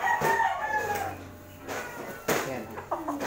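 A bulik gamecock rooster crows loudly nearby, one long rising-and-falling call followed by shorter clucks, while someone talks over it.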